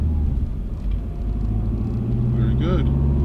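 A manual car on a learner's driving lesson picks up speed on a hill, its engine note rising under the steady rumble of the cabin. The sound is close and brief.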